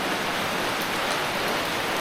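Heavy rain pours down in a dense, constant hiss, loud and close, with no voices.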